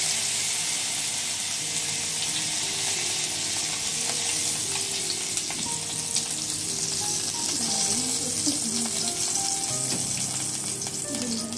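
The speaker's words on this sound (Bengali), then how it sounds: "রাঁধুনি ফোড়ন দিয়ে দেবো।" Radhuni seeds crackle and sizzle in hot oil as a tempering, a dense continuous frying hiss with a low hum and faint tonal sounds in the background.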